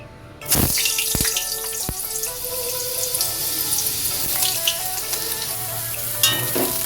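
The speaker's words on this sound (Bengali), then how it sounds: "প্রথমে বেগুনটা ভেজে নিচ্ছি" Long slices of eggplant frying in hot oil for a vegetarian posto dish: a steady, close sizzle starts abruptly and carries on with faint clinks and a bit of running water.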